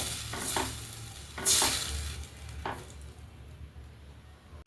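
A tomato-based ginger-lemon rasam bubbles in a pot while a spoon stirs it, making a few bursts of scraping and clinking over a soft simmering hiss that fades toward the end. Nobody speaks.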